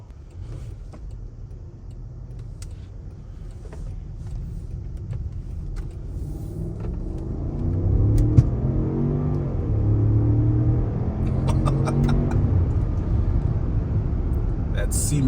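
A 2024 Range Rover Autobiography P530 long-wheelbase SUV with an 8-speed automatic accelerates, its engine rumble rising steadily into a stronger, fuller drone heard from inside the cabin, with faint clicks on top and no talking.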